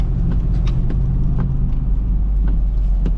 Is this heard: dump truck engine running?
yes